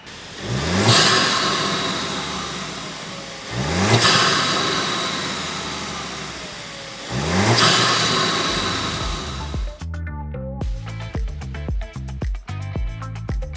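A VW Atlas 2.0L turbo engine with a cold air intake revs hard three times, each surge rising then falling back, followed by a rough, pulsing idle, loud and close.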